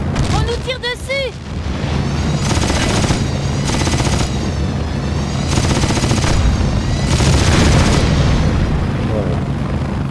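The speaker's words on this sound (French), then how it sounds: "On nous tire dessus." Pursuit Force video game gunfire rattles almost continuously, with rapid automatic bursts and heavy booms layered over a dense, loud action mix during a convoy chase.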